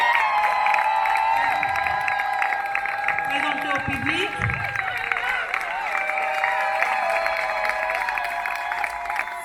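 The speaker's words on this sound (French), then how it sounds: "sous les applaudissements du public, s'il vous plaît." An audience at a civil wedding ceremony breaks into sustained applause with clapping, cheers and scattered shouts filling the room, and an official's voice speaks briefly over it.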